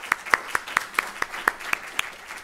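Seminar attendees clap in a small, sparse round: about nine distinct, crisp, evenly spaced claps, close and clear, with no talk over them.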